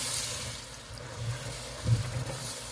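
Water pours slowly into thickening gravy in a pan and is stirred, a faint soft trickle with a few gentle sloshes and a brief splash.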